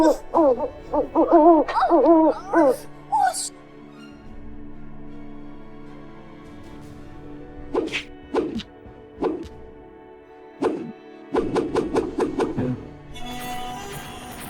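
An owl hoots in bursts, a rapid flurry of calls at the start followed by scattered and repeated hoots later, loud and close with no voices.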